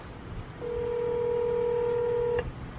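A steady electronic ringback tone drones for about two seconds over faint room noise, then cuts off abruptly.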